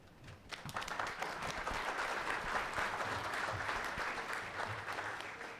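Sustained audience applause at a talk on water enhancing projects in the desert, dense steady clapping from a crowd lasting several seconds, fairly distant and even, with no speech over it.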